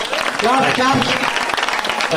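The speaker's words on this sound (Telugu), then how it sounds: "ఒక్కసారి మీరంతా చప్పట్లు కొట్టండి సార్." Crowd clapping at a bhajan singing competition during Ganesh Navaratri celebrations in a colony, a dense burst of applause lasting a couple of seconds with a voice speaking over it.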